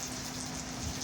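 Heavy rain falling at the Amman Citadel in cold weather, a steady dense hiss of drops with no gaps, heard from under a shelter.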